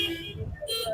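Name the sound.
vehicle horns honking at Pallavaram market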